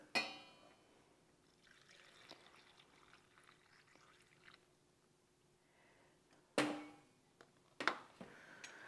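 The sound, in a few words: hot water poured into canning jar with raw beans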